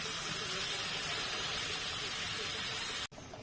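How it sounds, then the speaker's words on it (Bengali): Water poured onto sautéed spices, including Kashmiri chili powder, in a hot pan for a fish curry with pumpkin and potato, bursting into a loud, close, continuous steaming hiss that cuts off abruptly near the end. "এবার দিচ্ছি পরিমাণ মতো জল।"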